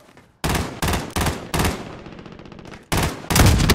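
Gunfire in Call of Duty: Modern Warfare comes as loud, close bursts of rapid shots, several separate volleys with short gaps, ending in a heavy sustained burst.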